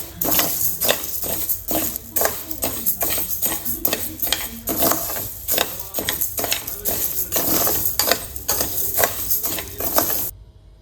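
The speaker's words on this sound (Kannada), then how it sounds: "ನಾನಿಲ್ಲಿ ಸಣ್ಣ ಉರಿಯಲ್ಲಿ ಹುರ್ಕೋತಾ ಇದ್ದೀನಿ." Fenugreek seeds and black urad dal dry-roasting in a pan over a low flame, a steady run of rattling, scraping stirs with repeated sharp clinks of the spoon against the metal.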